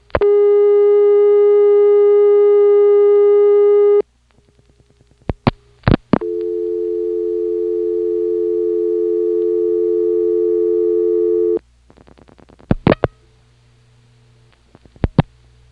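Telephone intercept tones on an NX1 exchange reached through a motel PBX in Siler City, North Carolina, 1977: a steady tone, a break, then a second long tone, with short clicking pips before and after each one.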